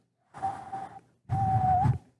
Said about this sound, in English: I tried to whistle there, but I couldn't.